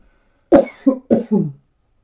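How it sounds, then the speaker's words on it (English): Two short, close coughs in quick succession, each with a double burst, then quiet. "Common for me to cough during a reading."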